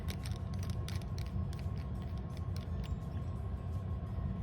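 A Pilot Namiki Falcon fountain pen barrel is threaded onto the section, giving close, faint, repeated small creaks and clicks over a low background hum.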